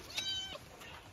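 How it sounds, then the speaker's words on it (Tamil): A house cat close by, underfoot, lets out two short meows, one fairly clear and the next softer, with no talking. "காலுக்குள் நசிங்கிறாத பூனை"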